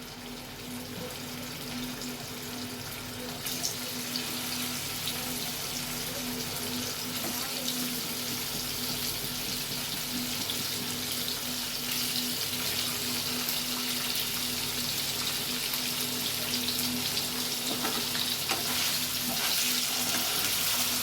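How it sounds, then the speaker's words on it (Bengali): Paneer fries gently in hot oil in a kadai, giving a soft, continuous sizzle at low volume that holds steady throughout with no pauses. "খুব আলতো করে নাড়বে এবং খুব হালকা ভাজবে"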